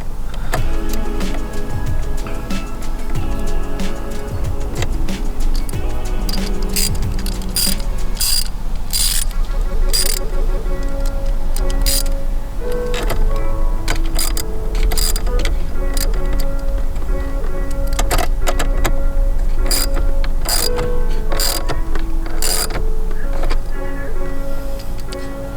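Battery terminal clamp on a Ford F150 being tightened, with rapid ratcheting clicks and ticks in a long, busy sequence over a constant mechanical background, close up.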